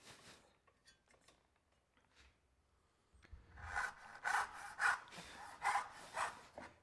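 Hand saw starting a fine kerf in wood for a bed desk build, with a quiet stretch of light scraping before rhythmic back-and-forth sawing strokes grow louder and nearer in the second half.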